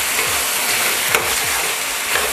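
A spatula stirs chhole, a chickpea curry, as it fries in a pan, giving a steady close sizzle with soft repeated scraping strokes and no voices.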